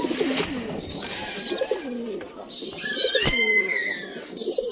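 Pigeon kept at home cooing repeatedly in soft, rhythmic calls, fairly close, with faint chirps of other birds in the background.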